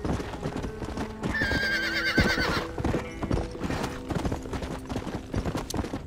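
Horse hooves clip-clop at a steady riding pace in Red Dead Redemption, close and prominent, with a whinny rising briefly over the galloping rhythm and no talking.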